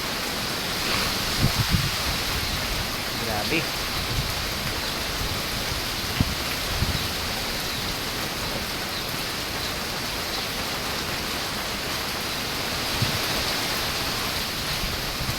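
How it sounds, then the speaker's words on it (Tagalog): Steady strong typhoon wind roars and hisses without pause, with a few faint knocks and a brief voice. "Lakas ng hangin."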